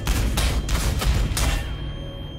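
Gunfire in the Warhammer 40,000 Sanctus Reach game: a quick volley of four or five heavy, booming shots about half a second apart over a dense rumble, then a fading tail.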